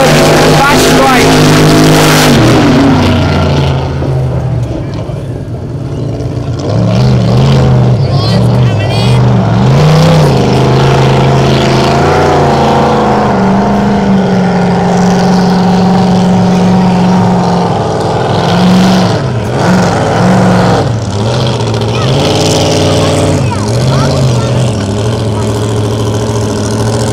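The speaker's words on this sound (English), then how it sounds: "Let's listen to this boat as it sounds thundering up the main back straight." A racing powerboat roars along the back straight at Taree during a powerboat club day, a loud sustained engine drone with shifting pitch that stays close and dominant throughout, with no talking over it.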